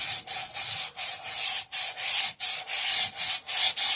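The cylinder ridge inside a Kohler K301 engine is scraped by hand, a harsh hissing rasp in rapid back-and-forth strokes, close and loud, each pass split by a brief pause.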